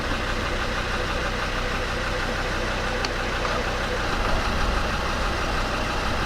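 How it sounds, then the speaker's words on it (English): A Land Rover Discovery 2 engine idles with a steady, even mechanical hum close by, continuous and unchanging throughout, with no voices heard. "While you're here and the engine's running"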